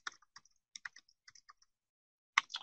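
Keys clack on a computer keyboard in short, sparse bursts of taps, close and faint, while code is being written. A quiet pause comes before a final quick cluster of keystrokes.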